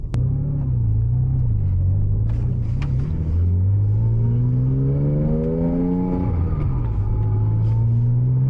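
A 700 hp Porsche Cayman 987 Turbo with underinflated tires drives at night, its engine rumbling steadily, then revving up in a rising pull, easing off and settling back to a low cruise, close and loud throughout.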